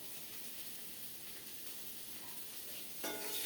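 Baby potatoes with spice powder sautéing in a pan, a steady close sizzle and hiss with faint stirring, growing a little louder near the end, no voices.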